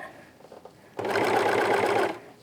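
Overlocker serger running along a fabric edge, trimming it as it sews: a loud steady mechanical whir that starts abruptly after a quiet moment and runs for about a second before stopping.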